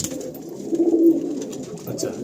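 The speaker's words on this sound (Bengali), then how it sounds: "হ্যাঁ, আন্ধ্রা পায়রা।" Andhra pigeons in a breeding pair setup cooing, a low throaty rolling coo that swells and fades over a couple of seconds, close by, with a voice speaking faintly around it.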